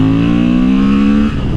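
2024 Honda Transalp motorcycle engine held at a steady high rev with a strong induction bark, then dropping off sharply near the end, loud and close, no talking.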